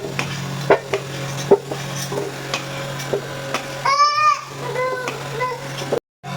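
Potatoes being fried in a pan, with a low sizzle under repeated utensil scrapes and taps against the pan. A short voice-like squeal rises partway through.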